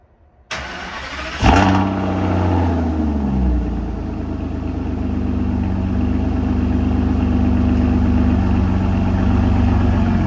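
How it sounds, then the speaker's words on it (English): Cold start of an Aston Martin engine: starter whirr, then a loud catch and flare of revs that settles into a steady, throaty idle with a deep exhaust burble, close and continuous, no talking. "Time for a cold start."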